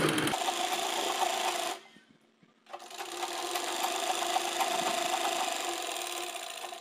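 A sewing machine stitches buckram onto a dhoti salwar in a steady close whirring run, stopping briefly near the two-second mark before starting up again and running on evenly.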